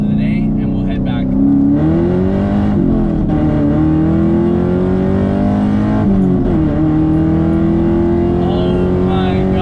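A fifth-generation Camaro SS accelerates hard from inside the cabin, its V8 rising in pitch through the revs with two quick shift dips, loud and continuous, while the driver speaks over it.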